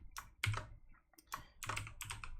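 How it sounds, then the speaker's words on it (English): Someone types code on a computer keyboard, with short bursts of close, clicky keystrokes separated by brief pauses, and no talk over them. "So to do that, I'm just going to type in include"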